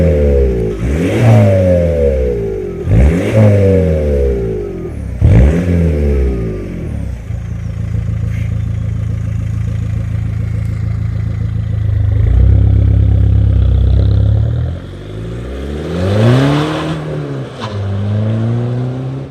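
A tuned stage 2 Volkswagen Passat with over 300,000 km revs hard three times in quick succession. It then holds a steady, loud engine drone while accelerating, and finishes with a further rising rev.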